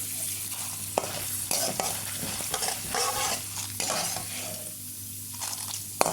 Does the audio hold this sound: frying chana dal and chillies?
yes